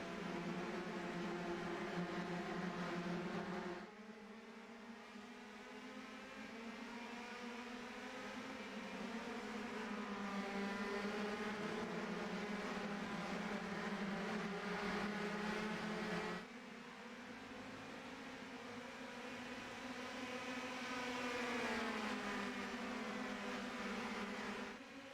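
Race cars in a video game round of the Belgian Grand Prix drone steadily as engine tones rise and fall, with a sustained whine that shifts pitch partway through.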